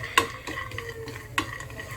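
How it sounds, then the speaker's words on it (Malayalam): Peanuts roasting in a pan for a sweet Kerala-style mixture snack, stirred with a couple of sharp scraping clicks over a faint steady sizzle, close and fairly quiet. "കപ്പലണ്ടി ചേർക്കാം. ഇതൊന്ന് ജസ്റ്റ് ഒന്ന് റോസ്റ്റ് ആവട്ടെ."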